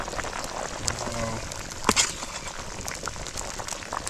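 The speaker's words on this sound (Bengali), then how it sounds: "আমাদের আলু কিন্তু একবার ফুটে গেছে, এখন ফুটান্তি জলে যাবে ভাজা মাছ।" Water with potatoes boiling in a cooking pot over an outdoor fire in a forest, before fried fish is added; a steady close bubbling and crackle with a brief louder spatter midway, under faint talk.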